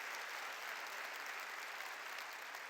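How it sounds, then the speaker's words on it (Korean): Congregation applauding together at a revival service in a prayer retreat hall, steady dense clapping that holds at an even level from start to finish with no voices on top. "깨달은 사람만 박수 쳐."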